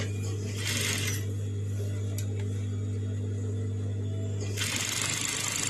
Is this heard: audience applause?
no